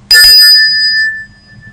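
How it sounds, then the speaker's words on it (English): A single bright bell is struck once, loud and close, its metallic ring sustaining and slowly fading over more than a second. "it's not the melodic bell and it's not the sales bell, it's the celebration bell"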